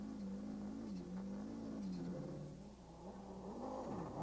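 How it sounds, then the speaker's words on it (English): A 1999 rally car has its throttle feathered through a turn, with the engine note wavering up and down continuously in a steady, moderately distant drone and no voices. "Hear the throttle, feathering it all the way through the turn to find some grip"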